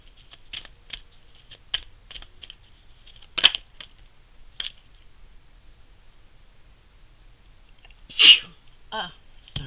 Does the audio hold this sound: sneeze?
yes